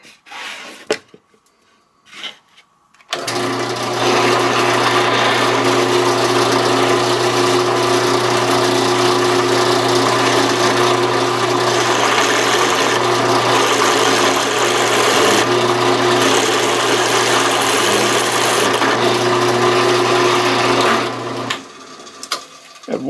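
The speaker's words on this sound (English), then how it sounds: "I'm going to drill these rivets out of the mop holder part." A power drill whirs steadily for nearly twenty seconds, loud and close, drilling out the metal rivets of a mop holder after a few quiet seconds and stopping near the end.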